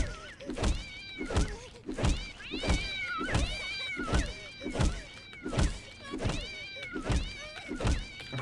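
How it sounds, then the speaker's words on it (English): Cats meow in the video game Postal 2, loud and close. The cries repeat steadily about every second in an overlapping chorus of drawn-out, wavering meows. "Cats."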